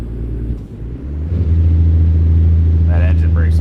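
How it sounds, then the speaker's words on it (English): Freightliner Cascadia truck in American Truck Simulator, its engine brake coming in as a loud, steady low droning rumble that holds on after about a second and a half, with a voice speaking over it near the end. "That engine brake sounds like shit."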